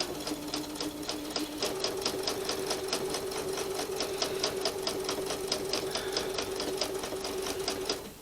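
A sewing machine stitches a turned appliqué Valentine table runner at a stitch length of 2, running continuously with a fast, even rhythmic clatter, close and steady throughout.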